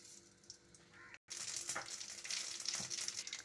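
Mustard seeds crackling in hot oil in a kadai while fish curry is being made, a faint close sizzle that briefly cuts out and then returns louder and denser with scattered pops.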